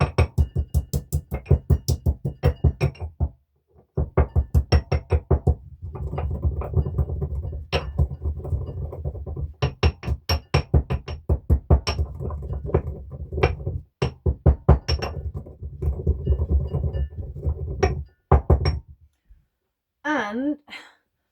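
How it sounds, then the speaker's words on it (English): Repeated hard clacks of a pestle pounding spices in a mortar, in quick bursts with brief pauses, with grinding sounds between strikes. "Just bash it up a little bit."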